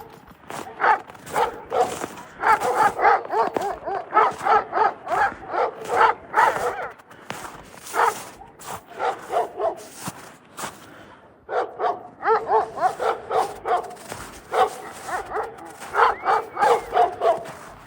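Four dogs bark in rapid, repeated bursts, loud and fairly close, keeping up a steady volley with a short lull midway.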